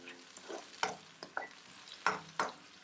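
Blended tomato being stirred in a frying pan for Nigerian gizdodo, with a faint background sizzle broken by about six distinct spoon scrapes and taps against the pan, quiet and close, with no talking.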